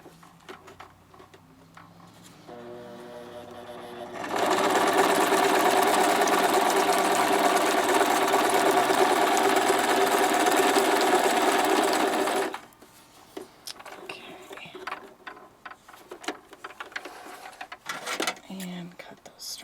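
A sewing machine runs a zigzag stitch along fabric in one loud, steady burst of about eight seconds, preceded and followed by quieter handling sounds and soft talk.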